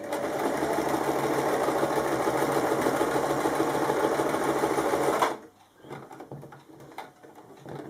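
A sewing machine runs steadily, stitching the hem of a kimono wrap top for about five seconds, then stops abruptly and leaves faint, sporadic handling clicks and soft creaks.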